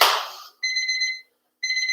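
Electronic workout timer during a jump rope session gives a loud, close electronic beep pattern: a rapid pulsing tone lasting about half a second, a pause, then a second pulsing burst, heard alone after a brief rush of noise.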